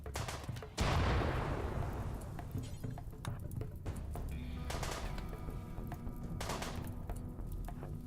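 Gunfire in the Rimworld colony game, a sharp loud crack followed by a decaying burst, then scattered lighter shots and thuds, with two more clusters of fire later, all fairly close and without talk.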